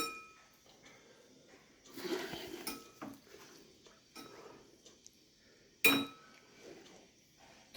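A spoon clinks and scrapes against a pan while dried small prawns bhaji is mixed, with scattered metallic taps and a sharp clank near the end, fairly quiet with pauses between strokes.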